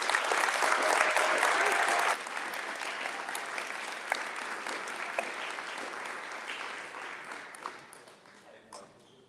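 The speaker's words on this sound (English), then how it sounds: "I hope you can all give them a warm hand of applause every time they come up." Audience applause for volunteers at a district state-of-the-district gathering, sustained clapping from a large indoor crowd that is loud at first, then eases and gradually thins out to a few scattered claps.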